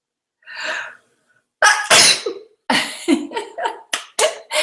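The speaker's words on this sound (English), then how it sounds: "oops, I'm going to sneeze." A breathy intake followed by a loud, sharp sneeze up close, then a string of quick sniffs and short bursts.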